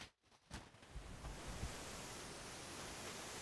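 Water rushes from a fire hose handline nozzle fitted with a stream shaper, a steady broadband hiss that starts after a brief quiet gap and holds loud and even throughout.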